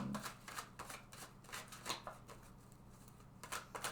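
Tarot cards being shuffled close up: a string of quick papery riffles and light taps in short irregular bursts, soft and alone with no talking.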